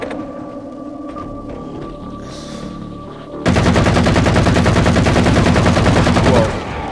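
Loud, sustained automatic assault rifle fire from Halo 4 bursts in abruptly after a quieter ambient stretch, a dense rapid stream of shots lasting about three seconds before cutting off.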